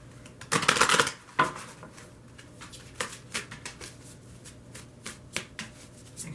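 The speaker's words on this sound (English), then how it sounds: "I'm just going to give this one more shuffle" Deck of oracle cards shuffled by hand, one loud riffling burst followed by a series of softer, irregular card flicks and taps, close and quiet.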